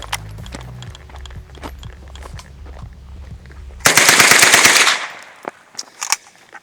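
An MP-40 submachine gun fires a loud, rapid automatic burst of roughly a second at White Claw cans, preceded by low rumbling and footsteps, with a few scattered impacts and clatter trailing after.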